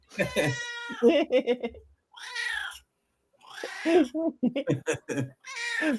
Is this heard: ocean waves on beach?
no